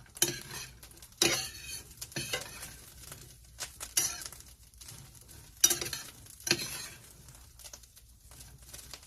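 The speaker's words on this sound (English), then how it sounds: "I'm going to stir my tempeh." Tempeh is stirred in a pan with a utensil, giving irregular scraping and clacking strokes over a faint low sizzle, close and fairly quiet between the bursts.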